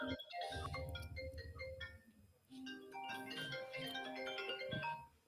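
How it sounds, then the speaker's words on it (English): A mobile phone rings with a tinny, repeating electronic melody of bright tones, played as a faint, steady tune through a quiet room with no talking. "Oh, that's your phone."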